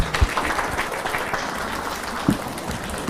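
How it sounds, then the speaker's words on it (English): An audience applauds His Excellency Rigathi Gachagua at a community gathering of Kenyans in Swindon, United Kingdom, a steady wash of clapping lasting the whole moment with a couple of louder thumps. "Can we all stand up and give His Excellency a clap offering?"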